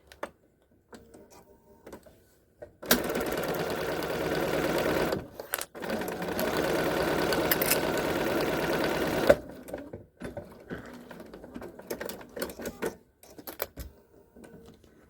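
A sewing machine stitches a crossbody bag seam in one steady run of several seconds, with a brief pause midway, then stops and leaves quiet handling noises.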